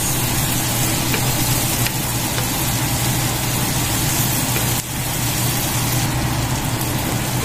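Garlic frying in a pan for pork sisig, a steady, close and loud sizzle that crackles without a break, with no voices over it.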